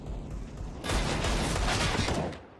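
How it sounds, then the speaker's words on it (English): Gunfire shooting through walls in Counter-Strike, a dense burst of rapid rifle shots that swells suddenly, holds loud for over a second, then fades. "Desperate wall bangs at A main"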